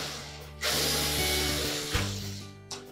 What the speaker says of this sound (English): we're going to remove some screws that secure it to the console